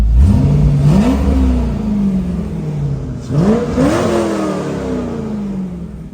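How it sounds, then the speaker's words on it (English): A 2001 Chevrolet Corvette Z06 V8 with a six-speed manual is revved twice from idle, each blip rising to a loud throaty peak and falling away, the engine close and alone. "Let's give it a rev because this thing sounds mean."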